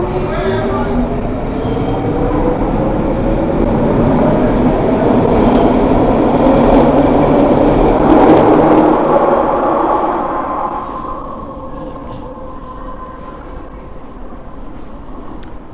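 A Vancouver metro train rumbles loudly through the station, its roar building and then easing as it pulls away, leaving a lower steady hum, with faint voices in the background.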